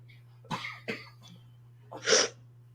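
Two short, sharp coughs close by, followed by a heavier, breathy cough a moment later.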